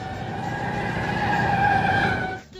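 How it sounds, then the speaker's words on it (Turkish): A sustained, high-pitched screech of car brakes and tires, steady and loud for a couple of seconds before cutting off abruptly. "Yolculuk esnasında duyulan acı fren sesi neydi?"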